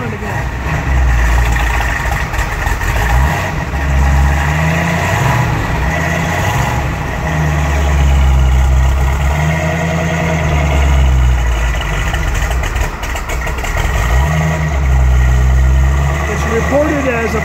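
A candy apple red 1968 Ford Shelby GT500 engine running, a loud, close, rumbling idle with repeated revs rising and falling, while someone talks over it.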